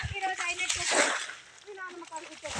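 Water is bailed and splashed out of a fish pond during a fish-catching outing, with a brief splashy burst near the middle amid people talking.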